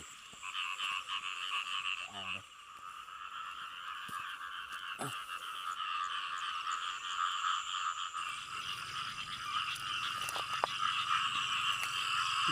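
Frogs croak steadily in a field at night, a dense chorus of repeated calls forming a continuous layered drone with a few louder individual croaks near the listener and no voices.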